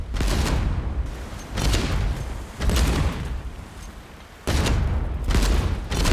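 Cannon fire in the naval video game Age of Water, heard as repeated heavy booming volleys in rapid bursts, loud and close, with short gaps between salvos.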